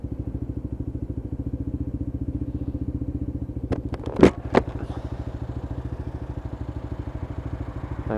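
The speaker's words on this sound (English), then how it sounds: "have a quick listen to the engine note on this" A Lexmoto LXR 125cc motorcycle engine idles steadily at traffic lights, a close, even low putter throughout, broken near the middle by a couple of sharp clicks or clatters.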